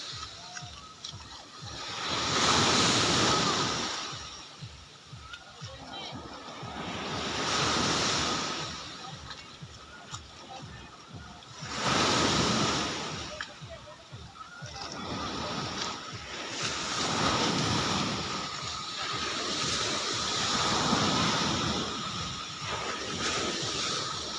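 Rough sea waves surge and crash around a small boat carrying passengers, rising and falling in repeated loud swells every few seconds, with wind buffeting the microphone.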